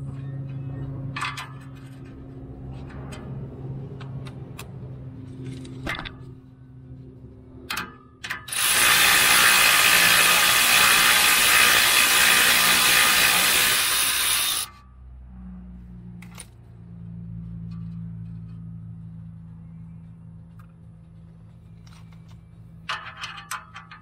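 A hand ratchet clicks on a 1999-2000 Honda Civic EK engine while cylinder head bolts come off: scattered short ratcheting bursts, then about six seconds of fast, loud continuous clicking, then quieter intermittent ratchet clicks over a low background hum.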